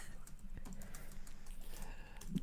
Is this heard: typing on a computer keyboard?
yes